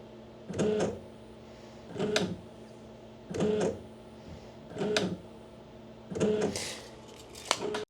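A CNC machine axis driven under LinuxCNC control steps back and forth, giving five short, evenly spaced motor whirs about a second and a half apart, close by, with quiet between moves and no talking.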